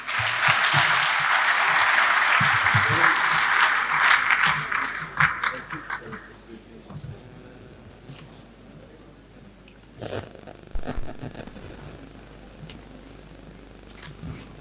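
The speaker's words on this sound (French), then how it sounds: "des applaudissements pour ce magnifique plaidoyer" Audience applause at a forum in Dakar following a speech: sustained, dense clapping for about six seconds that then fades into quieter room noise, with a few brief scattered claps and murmurs afterward.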